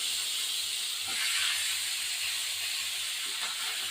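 Grated bottle gourd hits a hot pan, setting off a loud, steady steamy sizzle and hiss with a few soft knocks, close and continuous with no voices.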